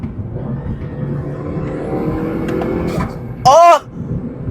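Turbocharged Lexus IS in sports mode with a new HPS cold air intake, its engine droning steadily up close, then a sharp, loud rising whoosh near the end.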